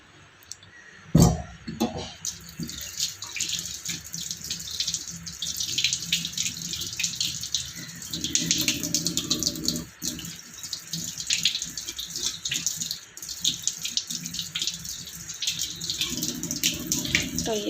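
Cucumbers are rinsed under a running kitchen tap, a steady splashing hiss of water in a sink with occasional clicks and handling noises, moderately close and without talk over it.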